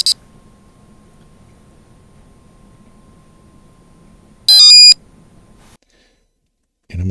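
A W65C265S board powers on and gives short electronic startup beeps: a brief high chirp at the start, a louder stepped beep sequence midway, and another tone at the end, over a faint low hum.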